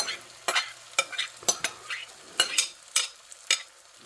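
Food sizzles in a dry pan with no extra oil, punctuated by sharp scraping and stirring clicks of a utensil roughly every half second, close and clear with no talking.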